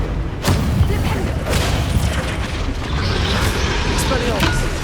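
A Confringo fire spell bursts in Hogwarts Legacy, a loud, booming impact that rumbles on as dense, crackling combat noise, with game voices mixed into the steady din.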